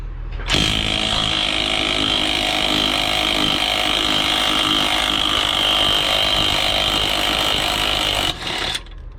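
A power tool, likely an impact gun, spins a nut off an air bag on a car hauler in one loud, steady, continuous run of about eight seconds, then stops abruptly.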